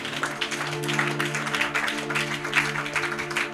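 Church congregation applauds in a sustained, uneven burst of clapping with a voice underneath, loud and close throughout.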